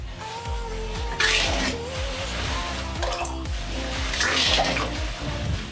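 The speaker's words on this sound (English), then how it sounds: "Just climbed out and I'm hearing this dripping sound." Water trickles and splashes steadily nearby inside a catamaran hull, dripping onto the floor with a faint rhythmic tapping throughout.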